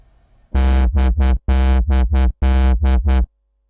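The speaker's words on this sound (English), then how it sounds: "you can hear the LFO rate is essentially being slowed down for the first cycle or two" Sylenth1 synth patch whose LFO rate is slowed by a mod-envelope attack, playing nine loud, harmonically rich notes in a bouncing long-short rhythmic pattern, alone and up close.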